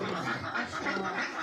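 A flock of about 250 ducks on a duck farm quack together in a faint, steady, overlapping chorus heard from a distance.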